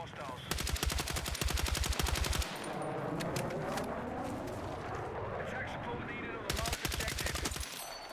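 Rapid automatic rifle fire in Battlefield 6, two loud sustained bursts of evenly spaced shots separated by a few seconds of quieter battlefield rumble and distant noise.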